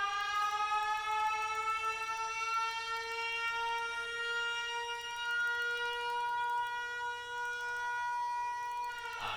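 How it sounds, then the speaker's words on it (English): Sirens in the Scrap Mechanic video game wail steadily and loudly, a sustained civil-defense style tone holding for about nine seconds with no talk over it. "Quick, everyone! Sirens on!"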